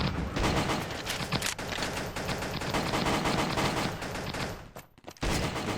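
Dense, continuous automatic gunfire from the Pixel Gun 3D shooter game, loud and sustained over about five seconds with a brief drop near the end before the shooting resumes.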